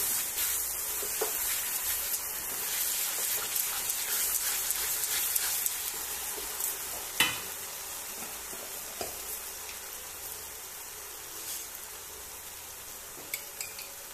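Sugar being stirred into apple halwa in a pan, a soft steady sizzle with faint scraping and a few sharp spoon taps, fairly quiet and continuous with no talking.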